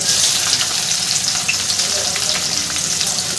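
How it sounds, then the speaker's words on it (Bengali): Loud, continuous sizzling of chopped onion frying lightly in hot oil, close by, with faint stirring sounds. "পেঁয়াজটা আমি হালকা করে একটু ভেজে নেব"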